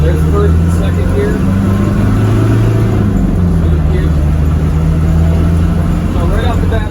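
A 1986 Land Rover 90 non-turbo diesel drives along with a steady, loud low engine drone and rising and falling tone through gear changes, close and continuous, with someone talking over it.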